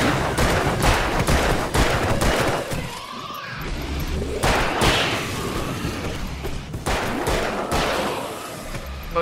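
Rapid bursts of gunfire from the Alan Wake video game, loud and close, fired in quick repeated volleys with short pauses between them and a few heavier thuds.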